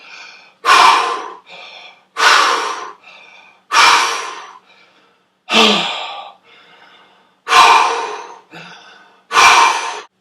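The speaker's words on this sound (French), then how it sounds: "nous utilisons la respiration complète, c'est-à-dire l'inspire remplit le ventre, les côtes flottantes et les clavicules" Deep yoga full breathing, close and loud: six sharp, forceful inhalations at regular intervals of about two seconds, each followed by a softer, fading exhale, with a few quiet breaths in between.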